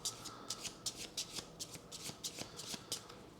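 Cards from a Kinfire Chronicles deck are shuffled by hand during a board game, giving a fast series of crisp riffling bursts, close and fairly quiet, with no talking.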